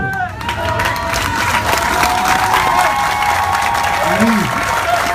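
Large crowd applauding at an outdoor political rally in Gabon, loud sustained clapping mixed with cheers and scattered shouts, steady and dense throughout.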